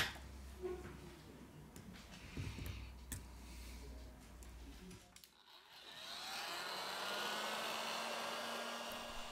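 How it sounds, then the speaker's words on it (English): Heat gun blowing hot air onto a Huawei P30 smartphone during repair, a soft whirring airflow that drops out briefly and then returns as a steady rushing hiss. "With the help of the heat gun, we apply 19 Celsius degrees during 4 minutes."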